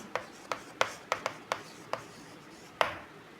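A marker or chalk tapping and scratching on a board during a physics lesson, with about eight short, sharp strokes spaced irregularly, fairly close and otherwise quiet.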